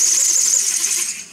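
Quadcopter drone motors in air mode spin with a steady high-pitched whine and hiss that fades slightly near the end, close and continuous with no voices.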